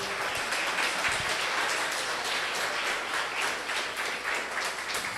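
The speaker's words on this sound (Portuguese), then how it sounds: "Você pode dar uma salva de palmas ao Senhor Jesus?" A church congregation applauds during a sermon, a dense, even roar of clapping that holds steady throughout, moderately loud and without speech on top.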